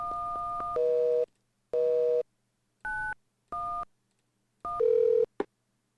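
Touch-tone keypad beeps from an old computer game as 911 is dialed: a quick run of short electronic dial tones, then several longer sustained tones separated by brief silences, clear and close with no voices.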